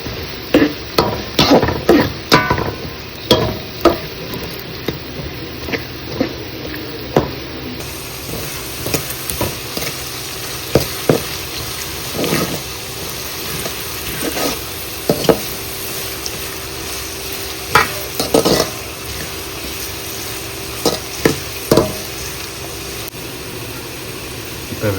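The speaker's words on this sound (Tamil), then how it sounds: "வெங்காயத்தை வந்து கொஞ்சம் அந்த கோல்டன் ப்ரௌன் ஆகுற வரைக்கும் வதக்கணும்." Onions sautéing in a pan until golden brown for a pepper chicken gravy, a steady close sizzle with repeated scraping stir strokes throughout and no talking.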